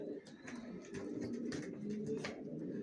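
Racer pigeons in a loft give soft, low cooing that rolls along continuously, fairly close but quiet, with scattered sharper clicks and shuffles among them.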